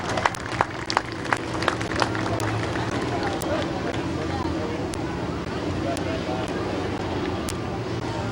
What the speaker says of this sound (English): give a round of applause to your number